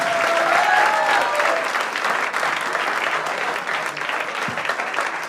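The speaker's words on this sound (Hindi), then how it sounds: "तालियां रुकनी नहीं चाहिए।" Audience applause at a Hindi shayari poetry recital, a dense steady wash of many hands clapping that fills the whole stretch at a loud, even level without letting up.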